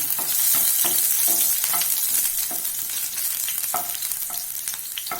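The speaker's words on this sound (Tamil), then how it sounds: "ஒரு 10 செகண்ட் வதக்குவோம்." Sliced garlic cloves sautéing in hot oil in a pan, giving a bright continuous sizzle broken by quick scrapes and taps of a stirring spoon.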